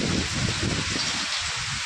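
Heavy downpour in a village, a dense, continuous rush of rain drumming on surfaces, steady and close throughout the short moment.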